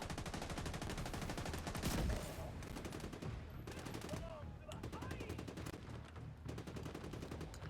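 Sustained rapid gunfire in a first-person shooter video game, a fast rhythmic sidearm burst with dense repeated shots running the full length, loud and close, with combat noise layered underneath.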